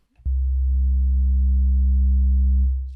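Steady low test tone played through a driven synth filter that adds third and fifth harmonics: a single buzzy, harmonically rich sustained note lasting nearly three seconds, with a sudden start and a gentle fade, heard alone.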